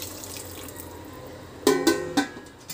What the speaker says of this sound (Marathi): आपण आता हे पाणी ह्या मटणामध्ये ओतून घ्यायचं आहे.